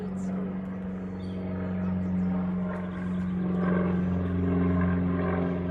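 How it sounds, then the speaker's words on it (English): A private airplane flies overhead near a rural house in Fletcher, North Carolina, giving a steady propeller drone that swells slightly toward the end, with outdoor ambience. "I wonder if we're gonna see what is flying. Private airplane."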